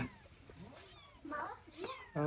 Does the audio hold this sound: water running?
no